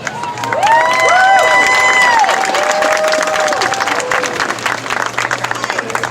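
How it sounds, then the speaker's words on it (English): Crowd at an outdoor Star Wars Day fan event applauds and cheers loudly for several seconds, with children's shouts mixed in and the clapping tapering off toward the end. "please give me a round of applause for Julie Dolan."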